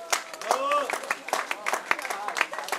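Spectators at a women's cross-country cycling race applauding the third-place finisher at the awards ceremony, scattered hand claps in a loose rhythm close by, with a voice speaking over them.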